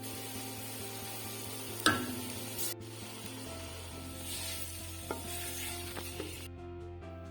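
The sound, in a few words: minced meat and onions frying and being stirred in a pan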